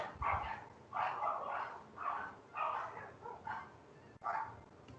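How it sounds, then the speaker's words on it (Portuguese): A neighbor's dog barks repeatedly inside an apartment building, a series of sharp yaps and barks in uneven bursts, moderately close and fairly loud with no talk over it. "tem um cachorro do vizinho que está infernizando aqui no prédio"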